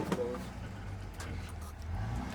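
A car rumbles past with a steady low engine and road drone, moderately close and continuous, while voices occasionally speak over it.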